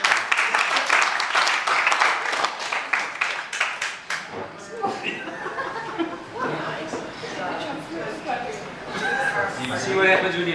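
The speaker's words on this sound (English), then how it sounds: "Give a nice round of applause for that." A burst of audience clapping after a magician's trick at a Cape Town show, loud and dense at first, then thinning as chuckles, chatter and talking take over.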